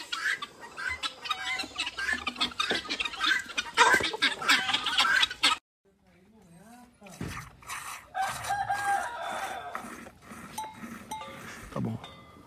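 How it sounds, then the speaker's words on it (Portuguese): Chickens and guinea fowl cluck and call on a northeastern Brazilian farm corral while going after scattered corn, busy and fairly close, with rustling, a short quiet gap midway and faint rooster-like calls. "As galinhas, os capotes tudo atrás de milho"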